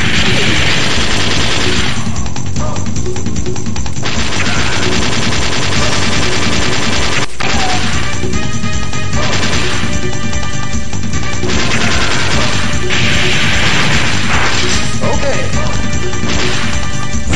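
Explosions and crashing blasts from bombs hurled at the player in the video game Metal Slug Advance, loud and continuous with dense gunfire-like bursts and smashing impacts throughout.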